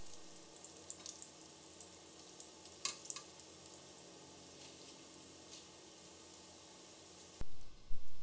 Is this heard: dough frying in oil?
yes